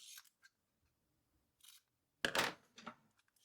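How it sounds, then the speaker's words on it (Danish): Scissors snip through a cord from a DIY kit, a few crisp close cuts with a louder double snip near the end in an otherwise quiet room. "Klipper en gang til."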